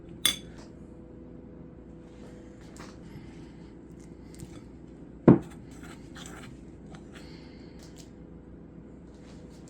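A utensil stirs pumpkin cookie batter with vanilla and cream in a bowl, making a faint, soft scraping with a couple of sharp clinks against the bowl in a quiet kitchen.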